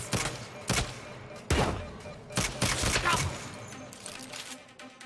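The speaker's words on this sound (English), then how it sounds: "This is a shotgun." Shotgun blasts from a video game ring out in several sharp, booming bursts at irregular intervals, with a noisy, clattering background of game sounds between them.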